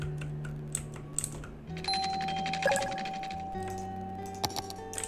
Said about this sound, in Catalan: Ding dong, qui ha tocat el timbre?